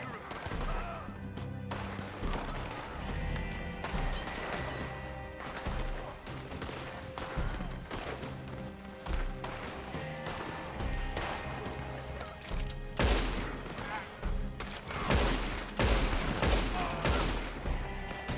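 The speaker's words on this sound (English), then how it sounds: "Yeah, this bolt-action rifle, so much better." Bolt-action rifle shots in Red Dead Redemption 2 online, a string of sharp cracks spaced across a busy soundscape of game effects and movement, growing louder and denser toward the end, with a player talking between them.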